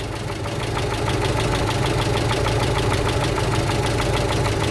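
A car engine idling on LPG during adjustment of a second-generation gas system, a loud, steady, close rumble with an even rhythmic pulse throughout.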